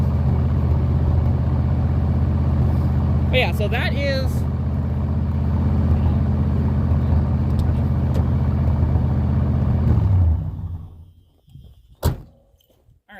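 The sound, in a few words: manual car engine idling while warming up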